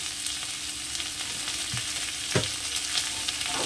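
Green banana peels frying in a pan with salt and turmeric, giving a steady close sizzle with a few brief stirring scrapes, no voices.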